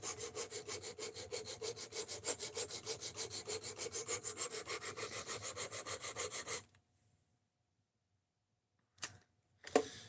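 Steady back-and-forth strokes of a kitchen knife against an abrasive sharpening stone with a guided precision sharpener, a fast even rasping rhythm for about six seconds, then silence and two brief scrapes.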